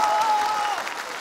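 Audience applause at a CCTV Spring Festival Gala crosstalk comedy performance, a short burst of crowd clapping with a voice briefly sounding over the start before the clapping thins out.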